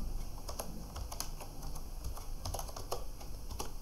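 Someone types a short word on a computer keyboard during an online data-entry task, a quick run of close, crisp key clicks with brief pauses between bursts, no talking.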